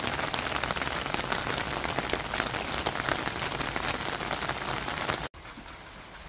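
Steady rain pours on the surface of an apricot orchard during the harvest, a dense continuous hiss throughout that cuts out briefly near the end and returns quieter.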